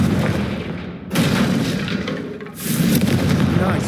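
Confringo fire spell blasts from Hogwarts Legacy, a series of loud, booming bursts with crackling fiery texture, swelling twice across the few seconds.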